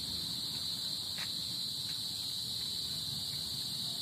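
Crickets chirp in a steady, high, continuous drone at dusk during an outdoor afternoon walk, with faint footsteps and rustles underneath and no talking.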